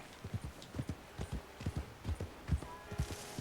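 Horse hooves galloping in Red Dead Redemption 2, a quick steady rhythmic clopping of dull thuds, fairly close and unbroken for a few seconds, with faint ambience beneath.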